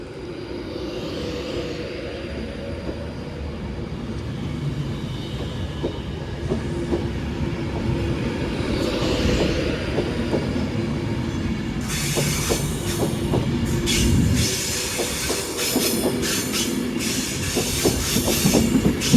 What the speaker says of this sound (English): 390-112 railing off to Manchester to London Euston.